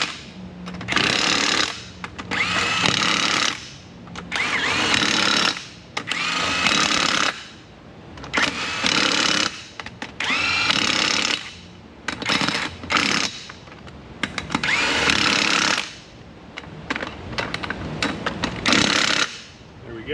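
Power tool tightening bolts on a truck's overload springs under a raised vehicle: loud, close bursts of rapid hammering, each lasting a second or two and separated by short pauses.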